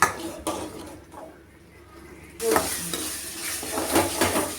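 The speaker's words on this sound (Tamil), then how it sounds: "இந்த மாதிரி நல்லா எண்ணெய் பிரிஞ்சு வர்ற வரைக்கும் அந்த அரைச்சி போட்ட மசாலா நல்லா வணக்கிடணும்" Ground masala paste sautéing in hot oil, a steady close sizzle and frying hiss with repeated stirring scrapes of a spoon through the paste, growing louder partway through.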